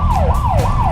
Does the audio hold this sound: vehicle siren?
yes